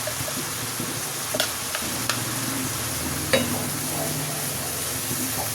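Ground spices stirred into a sizzling pan of prawn do-pyaza curry, a steady frying hiss with scattered scraping clicks of the spoon, close and continuous.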